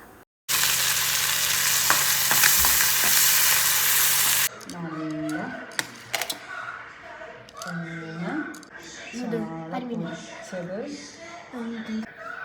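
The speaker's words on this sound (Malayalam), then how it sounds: "പലിഞ്ഞീൻ എനിക്ക് സാധാരണ ഉപ്പിട്ട് വറക്കണതാട്ടോ ഇഷ്ടം" Fish seasoned only with salt fries in a pan with a loud, close, continuous sizzle for about four seconds, then a voice talks while softer frying crackles continue underneath.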